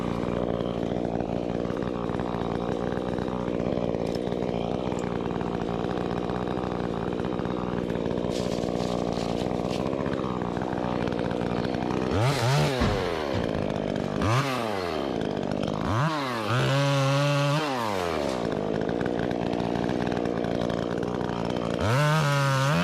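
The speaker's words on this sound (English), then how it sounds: "the saw that I'm using here on this one is the Stihl 150" A Stihl 150 chainsaw cutting tree limbs during a tree removal near power lines, with a steady close idle and repeated loud revving bursts as it bites through the smaller cuts.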